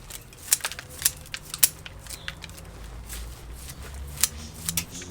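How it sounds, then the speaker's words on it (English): Sharp, crisp snips from strong, heavy root shears cutting through trident maple bonsai roots during repotting, a handful of irregular clicks spread across the stretch with soft rustling of soil and roots between them, close and fairly quiet, no talking. "now I'm going to really get my scissors and go into it hard. Now nice, good, strong root shears"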